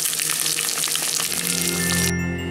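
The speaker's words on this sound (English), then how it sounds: "Totally deep frying the heck out of this" An egg deep frying in hot oil, a loud, steady crackling sizzle with dense bursts of spatter throughout, close up and alone, ending in a calmer, smoother hiss.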